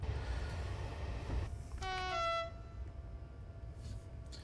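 A train running in the Trainsim Classic simulator on the Køge to Nykøbing Falster line, a low steady rumble of wheels on track with a short horn blast rising partway through.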